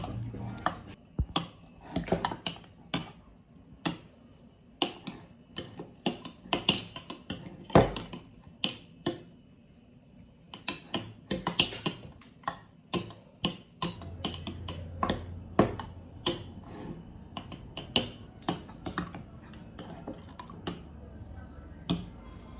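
A spoon stirs an overnight oatmeal mixture in a container, producing a long run of irregular clinks and taps against the sides, fairly close and clear with quiet gaps between bursts.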